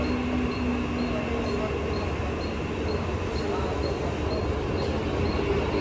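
A Mumbai local train pulls into Mumbai Central station, heard as a steady, loud rumble and hum with a faint metallic whine that holds without pause throughout.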